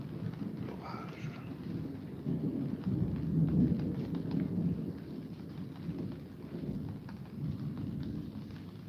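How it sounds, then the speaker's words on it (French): A thunderstorm with steady rain hissing down and low rumbles of thunder rolling underneath, constant and moderately loud throughout, with some faint wind buffeting on the microphone. "L'orage."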